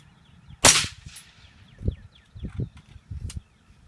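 A sharp crack from a Keltec CMR-30 .22 WMR rifle at an outdoor range, followed by a few fainter thuds and snaps as the bullet ricochets off a target, each separated by brief gaps.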